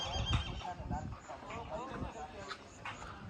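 A Kathiyawadi horse whinnies nearby with a wavering, rising-and-falling call, over low rumbling background noise and possible muffled voices.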